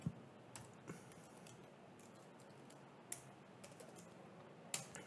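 Soft, sparse keystrokes on a computer keyboard while entering file commands on a Red Hat Linux system, faint and irregular clicks over a quiet room hiss, with no voice.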